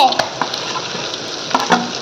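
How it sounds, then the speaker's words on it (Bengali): Eggplant fries in hot oil left over from frying fish, giving a loud, dense, close sizzle with a few quick stirring scrapes and pops over about two seconds. "মাছের তেলটা ভাজা হয়ে এসেছে এবার বেগুনটা দিয়ে দেব"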